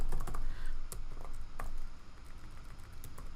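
Rapid keystrokes clatter on a computer keyboard as a shortcut is typed, a quick burst of close, crisp clicks with no voices.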